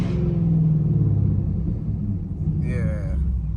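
Chevrolet Camaro ZL1 engine rumbles deep and loud from inside the car during a drive, a heavy low drone that fades slightly, with music playing over it.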